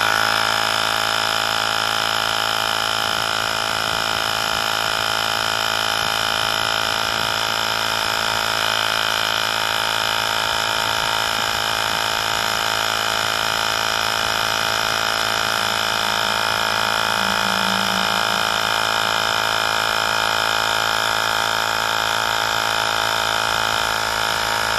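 A Michelin MC12265 portable tire inflator pump runs steadily with a loud, constant motor hum and buzzing vibration, holding an even drone for the whole stretch with no speech.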